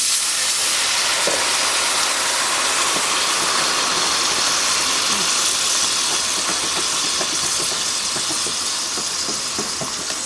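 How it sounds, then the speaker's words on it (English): Three-quarters of a cup of apple cider vinegar hits a hot pan of browned chicken bits, giving a loud, continuous hissing sizzle and rush of steam that holds steady throughout, with faint scraping clicks beneath. "So I'm going to be adding 3/4 of a cup of apple cider vinegar, and the second we add it in"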